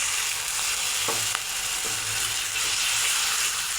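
Spice paste (masala) frying in a pan for an egg curry, a steady close sizzle with a few light stirring clicks and no talking.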